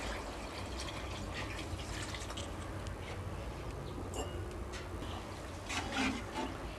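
Water is poured into a cooking pot for mushroom biryani, a soft steady splashing and trickling that runs the whole time at low level, with no talk over it.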